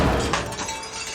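A grandmother's urn falls and shatters, a single sharp breaking crash at the start with brief scattering debris trailing off, fairly loud and close, with no talk over it.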